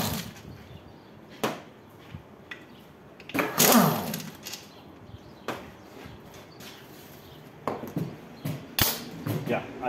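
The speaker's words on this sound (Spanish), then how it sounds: "voy a comenzar quitando los pernos o tornillos de la bomba de aceite" Bolts come off the oil pump of a TH350 automatic transmission: sharp metallic clicks, taps and clanks from a wrench and loose parts, irregular and close, with quieter handling noise between them.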